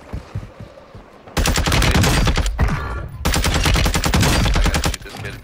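Close, loud automatic fire from an FSS Hurricane in a shooter video game comes in two long sustained bursts separated by a brief pause, with quieter background sounds before and after.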